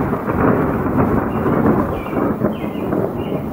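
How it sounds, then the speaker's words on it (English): Low rumbling thunder rolls continuously beneath steady rainfall during a rainstorm, a broad, deep roar without any voices present. "Well, you can hear the thunder"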